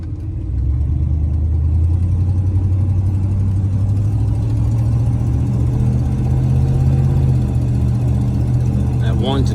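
A 1990 Ford F150 XLT Lariat 4x4 drives with a steady low engine drone from inside the cab. The pitch climbs and shifts as it goes through the gears, with someone talking over the engine.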